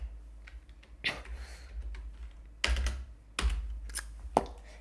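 Keys clatter on a computer keyboard while code is typed, short bursts of close taps separated by brief pauses, with a few sharper louder strokes.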